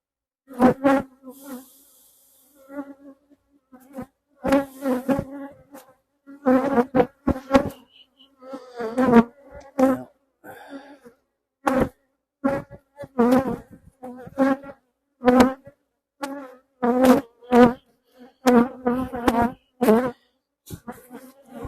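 Honeybees buzz in close, intermittent bursts during a hive inspection, each flight passing near and then fading, with short gaps of quiet between the repeated drones.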